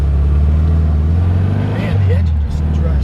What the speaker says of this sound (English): Man, the engine just runs perfect.